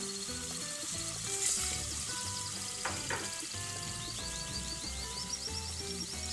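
Pepper paste frying in a pan as the base for a dumpling soup, giving a moderate, steady sizzle with soft spatters and a few clinks.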